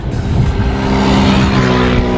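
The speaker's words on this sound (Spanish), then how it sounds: "por acá también pasan las motitos y pasan a toda velocidad" A motorbike speeds along a bike path near the windmills of Kinderdijk in the Netherlands, its engine roaring loud and close in one continuous rush with no talking.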